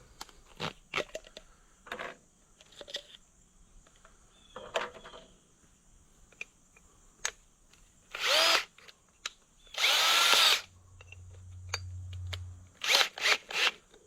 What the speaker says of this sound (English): I don't like using big drill bits in a cordless drill, but hey, we'll give it a shot.